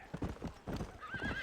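Horse hooves clip-clop in Red Dead Redemption, a steady cluster of close, moderately loud hoofbeats with a brief neigh or whinny rising near the end and no talk.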